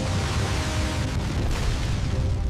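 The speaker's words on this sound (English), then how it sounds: "Pressure hull collapsing." A U-boat's pressure hull collapses under attack: a loud, dense, continuous roaring rumble with a heavy low-end boom that holds steady for a few seconds, with no voices.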